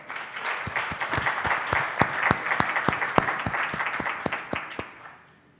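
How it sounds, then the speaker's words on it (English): A small audience's round of applause at a NATPE 2012 session: individual claps stand out in a lively but modest burst, building quickly, holding for several seconds, then thinning and dying away. "Can we get a little round of applause?"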